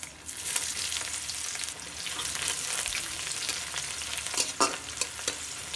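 Onion sizzles in hot oil in a wok up close, with scraping stirs and a few sharper clatters toward the end; no talking.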